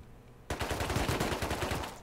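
Automatic gunfire in the video game Rust breaks a short silence with a rapid, sustained burst of close, loud shots fired in quick succession.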